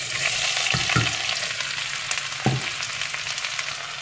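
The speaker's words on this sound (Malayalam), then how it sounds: "അപ്പം ഞാൻ സവാള അതിലേക്ക് ഇടുകയാണ്" Sliced onions drop into hot oil and ghee in a pan for beef dum biryani and fry with a loud, steady sizzle, while a couple of spoon clinks and stirs sound close by.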